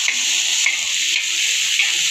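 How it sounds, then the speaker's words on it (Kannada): Onions and spices frying in oil for egg gravy, a close, loud, continuous sizzle with faint stirring scrapes. "ಇವಾಗ ಎಲ್ಲ ಈರುಳ್ಳಿ ಮತ್ತು ಅದು ಮಸಾಲೆಗಳನ್ನು ಹುರ್ಕೋಬೇಕು"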